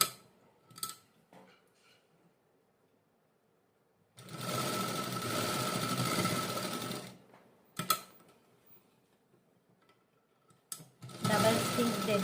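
Sewing machine stitching blouse panels half an inch from the edge, running in two loud sustained bursts with quiet pauses between, a few faint clicks and handling noises in the gaps.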